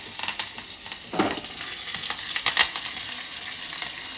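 Whole cumin and two or three curry leaves frying in hot oil for a tempering, a crackling sizzle with sharp pops and spits, close and moderately loud.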